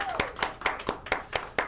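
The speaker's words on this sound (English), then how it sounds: "Round of applause." Sparse, slightly uneven claps from a small studio audience on a local late-night talk show, about eight sharp hand claps spaced roughly a quarter second apart and heard fairly close.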